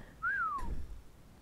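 A single rising-then-falling whistle command in Ark: Survival Evolved (Extinction), issued to a tamed creature to follow a Quetz, heard alone and fairly clear, followed by a brief faint whistle onset at the end.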